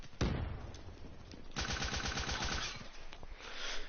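A PPSh submachine gun fires in Black Ops 3 multiplayer, with rapid rattling bursts, a short opening volley and then a longer sustained stream of shots, loud and up close.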